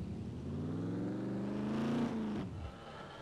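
A car engine drones steadily while driving in the SCUM video game, pitch climbing gradually as it revs before dropping off sharply; fairly faint and alone.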